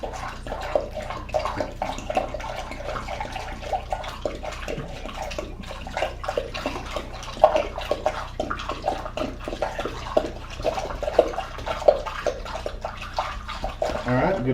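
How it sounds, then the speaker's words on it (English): Cold refrigerated water pours and splashes steadily into a Mr. Beer plastic brewing keg, a continuous close gurgling wash with small irregular splashes throughout. "Now we're going to top it off with some more cold refrigerated water."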